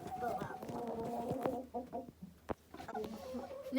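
Chickens in a coop cluck close by in a series of short, irregular calls, with a person speaking softly in Turkish over them partway through.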